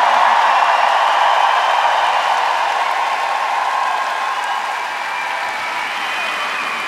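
Dense, steady applause and crowd noise from a live-show audience in a Vienna hall, loud and continuous for the whole stretch and easing slightly toward the end.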